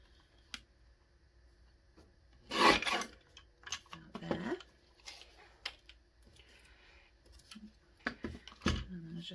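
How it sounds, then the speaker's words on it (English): A small mini paper trimmer slices through craft card in a few brief rasping strokes, close up, with soft handling rustles and pauses between cuts. "I'm going to bring out my little mini trimmer and I'll just trim that down"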